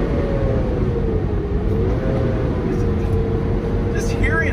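A 2023 Ford Super Duty pickup towing a load downhill under braking gives a steady, close engine and exhaust drone with a continuous low rumble and a slight tonal hum, no talk over it.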